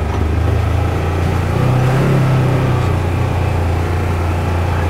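A 2022 Polaris General XP 1000 Trailhead Edition UTV drives through sloppy, rain-soaked ground, its engine droning steadily with a brief rise in pitch midway, close and continuous without speech.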